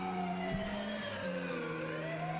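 Police siren opening a song, a wailing tone that sweeps slowly up and down over a sustained low hum, steady and moderately faint.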